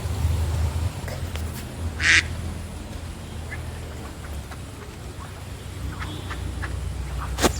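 A single short duck quack from an animated 3D animal stands out briefly over a quiet, low background hum, followed by faint scattered ticks and sounds.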